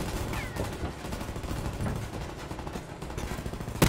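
Scattered gunfire cracks through the Blackout mode of a shooter game, a mix of irregular bursts and single shots at moderate distance, with a sharper close blast at the very end.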